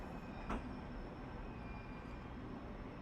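A Long Island Rail Road train pulls into a platform at Woodside with a low, steady rumble and faint hum, quiet and even throughout, with a brief clank near the start.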